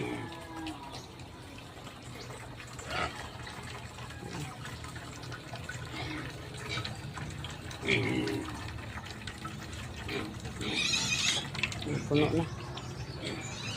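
Water runs steadily from a tap into a basin, a continuous splashing rush with louder gushes, while a person talks over it.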